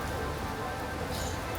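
Heavy rain pours steadily in Japan, a dense close patter of drops hitting surfaces with no pauses or talk.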